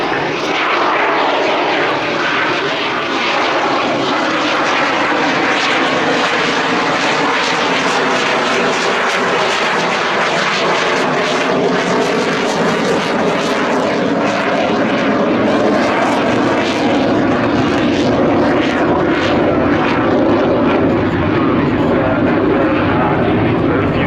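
A Czech Air Force multi-role military jet flies past at the Royal International Air Tattoo air show, a loud steady roar that swells and shifts in pitch for over twenty seconds, with faint voices in the background.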